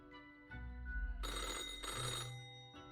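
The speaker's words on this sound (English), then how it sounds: "Old-fashioned phone again rings right as you settle in." An old-fashioned telephone rings in the Death and Taxes game, a loud jangling bell burst in two close rings over a low droning background, with no talking.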